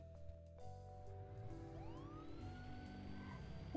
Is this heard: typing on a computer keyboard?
no